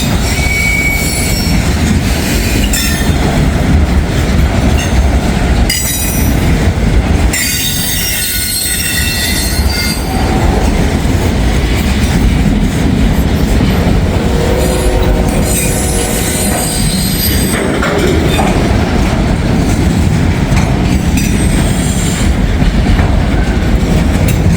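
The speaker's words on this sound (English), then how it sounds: "We're gonna be having another another train doing that, but it'll be a Norfolk Southern train." A Norfolk Southern freight train rolls past close by in Hamilton, wheels squealing shrilly over a steady loud rumble and clatter of railcars for the whole stretch.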